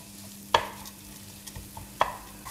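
Carnaroli rice for risotto cooking in a pan, with two sharp scraping stirs and faint sizzling between them.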